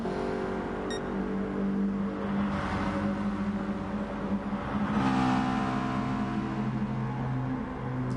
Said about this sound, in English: Well, that McLaren sounds nice.